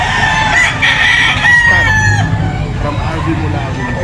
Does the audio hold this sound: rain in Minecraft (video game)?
no